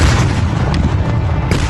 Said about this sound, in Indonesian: Tiba-tiba terjadi ledakan.